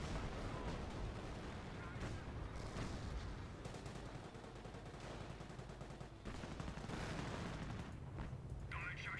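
Grenade blasts and battle noise from Company of Heroes, dense continuous booms and gunfire rumbling loud throughout, with a voice commentating over the top.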